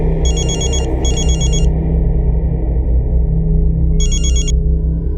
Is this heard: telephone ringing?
yes